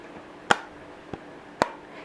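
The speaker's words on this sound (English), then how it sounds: "that sound is necessary for you to completely click and secure the packaging" The plastic lid of a blush palette snaps shut with two sharp clicks about a second apart and a fainter tap between them, close and quiet, with no talking.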